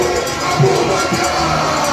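Supporters at a Nigerian political rally clap and cheer as a speaker invites Atiku Abubakar to the stage, producing a continuous dense roar of crowd noise with no clear pauses.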